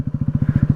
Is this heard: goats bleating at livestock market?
no